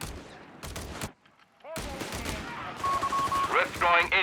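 Company of Heroes 3 battle with bursts of rapid machine gun fire and scattered rifle shots, loud and close, mixed with game effects and a commentator's voice talking over the action.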